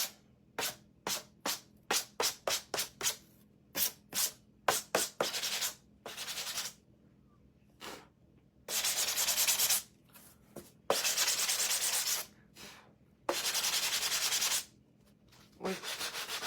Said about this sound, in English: Sanding block over here to just rough that up just a little bit.